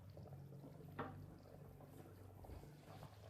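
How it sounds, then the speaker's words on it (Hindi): Rice poured into a pot of boiling water for vegetable pulao, a faint bubbling simmer with one brief splash of grains tipping in near the start, then a soft, steady boil. "पानी हमारा उबल चुका है। अब चावल डालेंगे इसमें।"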